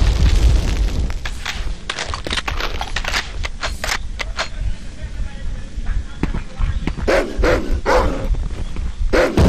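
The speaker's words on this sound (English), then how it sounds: "I gotta worry about the dog too" Dog barking in the PlayStation game Medal of Honor during a sewer chase mission, sharp repeated barks mixed with booming blasts and game effects, with a player talking over the action.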